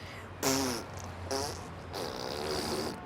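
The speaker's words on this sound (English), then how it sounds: "Listen to these farts." Comic fart sounds from a Naked Brothers Band TV scene: three separate buzzy, rumbling blasts, the last drawn out longest, fairly loud with no talking between them.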